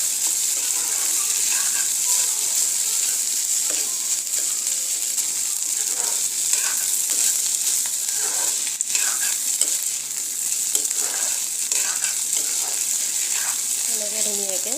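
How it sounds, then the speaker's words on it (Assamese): Rice and fish frying in a pan, a steady close sizzle with stirring and scraping running throughout, with a brief higher-pitched clatter near the end. "এনেকৈ ধুনীয়াকৈ এতিয়া ভাজি পেলাম"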